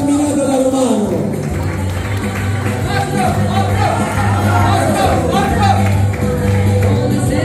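Crowd at a carnival party clapping and cheering for a costumed guest, a loud, continuous mix of applause, chatter and voices.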